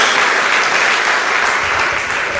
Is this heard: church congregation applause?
yes